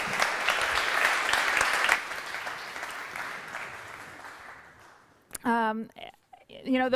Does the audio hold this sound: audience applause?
yes